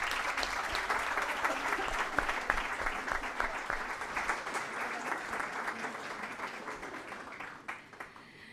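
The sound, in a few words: applause for the guests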